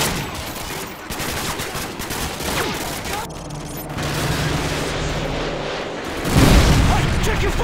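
Explosions and gunfire from AGM missile strikes in Call of Duty Modern Warfare 2, a dense, continuous barrage with a heavier blast near the end, voices faintly mixed in.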